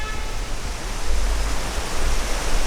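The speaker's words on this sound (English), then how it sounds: "There is the river here with quite a few pools of swimming water." A river rushes past pools of swimming water at Upper Tapovan in Rishikesh, making a steady, broad, loud roar of flowing water with no break.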